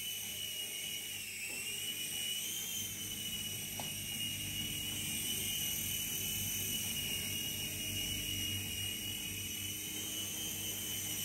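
A T2M Spark SX radio-controlled helicopter lifts off and flies, its small rotor and motor giving a steady high-pitched whine and buzz that holds evenly throughout at close range.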